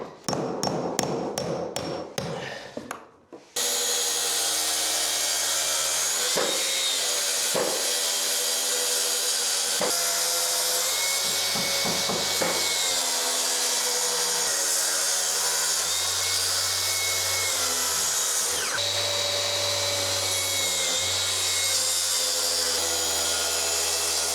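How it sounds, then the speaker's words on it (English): A track saw cuts through hardwood flooring during an old-house renovation. A quick burst of sharp knocks comes first, then a loud, sustained whining cut runs for about twenty seconds with slight shifts in pitch. "So now I've done the majority of the cut with the track saw."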